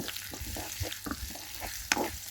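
Onion, garlic and green chili fry in oil in a pan, with a soft continuous sizzle broken by scraping stirs and occasional clicks of a utensil.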